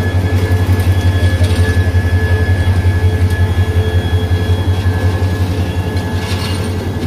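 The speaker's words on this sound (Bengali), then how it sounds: "এই ইনশাল্লাহ আমাদের ট্রেন যাচ্ছে" A Bangladesh Railway train rolls past a level crossing gate, a loud close rumble with a strong low drone, rhythmic wheel pulsing and a faint high squeal, continuous throughout.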